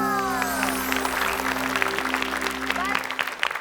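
Live studio audience on an Indonesian comedy show breaks into steady applause, dense and sustained, with a musical tone and a voice running underneath the clapping.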